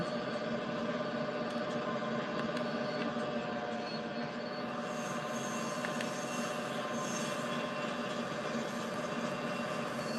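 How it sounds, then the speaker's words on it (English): A train reverses in Train Sim World 2020 on the Northeast Corridor near New York, a steady low rumble of engine and rolling stock with a faint high wheel squeal, continuous and fairly quiet. "Okay, so now we're reversing."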